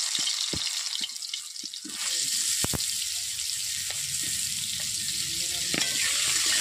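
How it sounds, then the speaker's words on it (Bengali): Pointed gourd (potol) pieces going into hot oil, a few sharp drops and clinks at first, then a strong, steady sizzle with stirring scrapes continuing close by, no voices. "তেলে পটল দেওয়ার পর এইভাবে আমি পটলগুলোকে দিচ্ছি তেলের মধ্যে"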